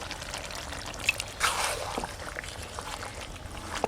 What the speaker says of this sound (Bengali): গ্রেভি করার জন্য একদম সামান্য একটু জল দেব